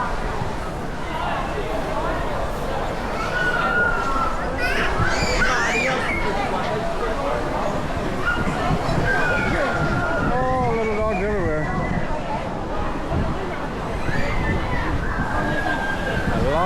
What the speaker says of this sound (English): The river is just ripping.